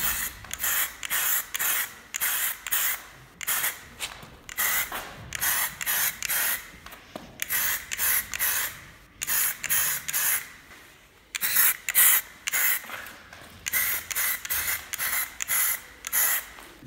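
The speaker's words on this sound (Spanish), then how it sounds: "estoy aquí lijando, desengrasando y limpiando un poco la tapa" Hand sanding and scrubbing on a car engine's top cover while degreasing it: repeated bursts of close, rasping friction strokes in an uneven rhythm, with brief pauses between passes and no voices.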